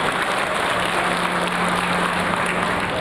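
A crowd at a Thai monk ordination celebration with a head-shaving ceremony applauds steadily, a dense, even wash of clapping that holds for the whole moment.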